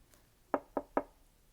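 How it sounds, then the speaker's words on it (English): A door is knocked three times in quick, impatient succession, close and crisp against near silence, in a children's storybook reading of Little Red Riding Hood. "He knocked impatiently on the door."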